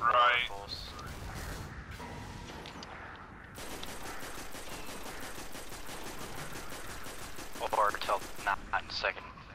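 Rapid gunfire fills a hard-mode Vault of Glass raid in the video game Destiny. A steady stream of quick shots rattles on under players talking.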